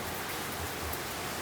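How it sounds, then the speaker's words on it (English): Heavy rain falls steadily around an arctic campsite, a dense, even hiss of drops on surfaces with no breaks, fairly quiet and close, with no voices. "it's raining like crazy."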